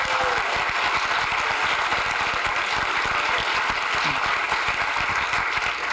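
A political rally crowd claps together in a dense, continuous burst of applause that holds at an even level throughout.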